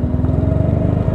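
Honda Beat 110 scooter engine revving hard for a wheelie, a loud close buzzing drone with a rapid pulsing beat throughout.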